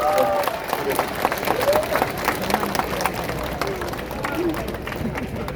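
A crowd at a presidential campaign rally in Gunpo, Gyeonggi applauds with steady clapping and scattered cheers, mixed with crowd murmur under a prominent voice talking over the sound.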